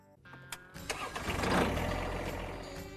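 A John Deere 5075E tractor engine cranks and catches, building from quiet clicks into a steady, rising diesel rumble that holds loud and close.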